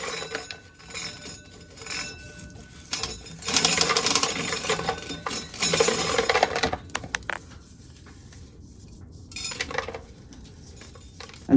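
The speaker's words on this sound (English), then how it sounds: "you can hear the wind outside smacking that door, smacking the corn crib doors" Loose, unpinned corn crib doors banging in the wind on a farm during corn shelling: irregular bursts of rattling, clanking metal knocks, some loud and close, separated by quieter gaps.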